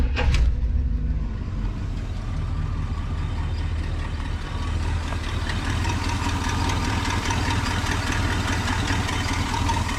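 A 1965 Cadillac Deville V8 cranks and catches, then settles into a steady, loud idle with a rough, slightly knocking low rumble that continues unbroken, heard close with no talking.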